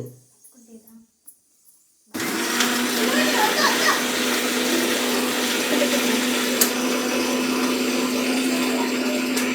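A mixer grinder roars into a steady, loud blend of mint chutney after a quiet opening with brief voices, running continuously to the end.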